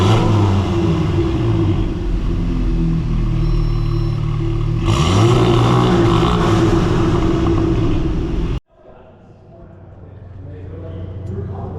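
An Audi S3 fitted with a Trackslag downpipe launches hard, its engine roaring loudly and climbing through the revs for several seconds before the sound cuts off abruptly, leaving a quieter rumble that slowly builds again.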